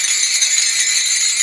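Brass taal hand cymbals played during a Marathi kirtan, a bright continuous metallic shimmer and jingle, loud and close, with no voices.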